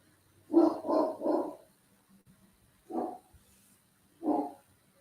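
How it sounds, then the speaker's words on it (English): A dog barks in a quick burst of three loud, close barks, then after a pause gives two more single barks, each separated by quiet. "He barks at everything."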